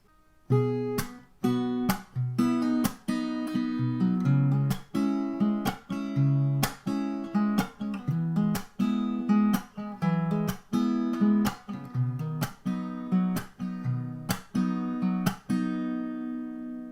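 An acoustic guitar strums the chord progression of a song in a steady rhythm, each chord ringing out clearly with no voice.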